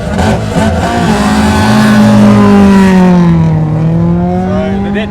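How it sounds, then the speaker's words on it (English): Datsun 1200 rally car pulling away at the start of a super special stage at the Otago Rally, its engine revving loudly and rising in pitch through the gears, close and steady throughout. "So the Datsun 1200 heads off onto the course."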